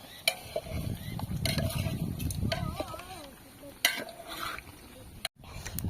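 Puris fry in a pan of oil while food is cooked for a village feast, with a steady sizzle under stirring scrapes and clinking utensils, and voices talking nearby.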